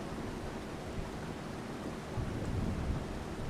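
Rain with low rolling thunder in Farming Simulator 25, a steady broadband wash of rainfall and a deeper rumble swelling in the second half, no voices.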